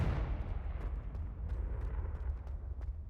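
A Confringo fire spell blast in the Hogwarts Legacy video game, a loud booming explosion with heavy low rumble and crackling debris that sustains for about three seconds.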